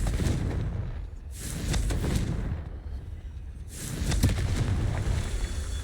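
Confringo blasting spells in Hogwarts Legacy go off as loud booming bursts in combat. Two or three heavy explosive swells rise over a continuous rumble.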